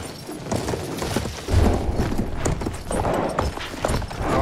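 Horse hooves gallop in the Battlefield 1 video game, a rapid clip-clop rhythm that runs throughout, loud and close, over rumbling in-game battle noise.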